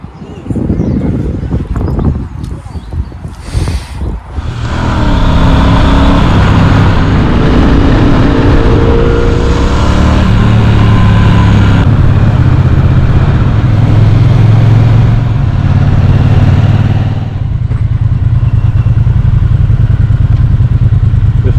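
Triumph motorbikes ride along a road, with a steady close engine drone and wind rush that swells after a brief quieter start, rising and falling in pitch with gear and speed changes.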